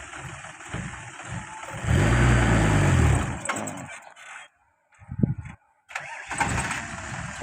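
A soil dump truck arrives with its engine stuttering: a loud rumbling run that cuts out, a brief sputtering restart burst, then the engine picking back up, close by.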